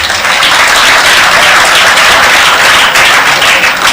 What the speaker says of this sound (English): I want you to give the Comrade Leader another hand clap for me